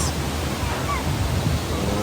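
Strong floodwater rushes beneath a bridge during Typhoon Ulysses in Rodriguez, Rizal, a loud, continuous broadband roar with no pauses.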